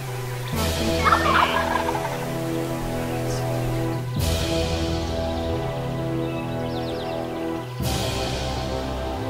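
A wild turkey gobbles three times at even intervals during a hunt, each a loud rattling burst that trails off, heard clearly outdoors with no talking.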